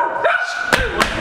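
A dog barks twice at a distance, sharp short yelps over an outdoor background with a steady tone, while people talk nearby.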